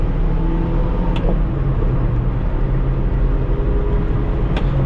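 A supercharged 1991 Subaru Sambar kei truck drives along, its small engine giving a steady, droning hum with road noise from inside the cab, continuous and fairly loud throughout.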